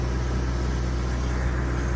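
A two-part spray foam rig sprays insulation into rafters, a steady, dense hiss over a low mechanical rumble, continuous and unbroken throughout, with no voices.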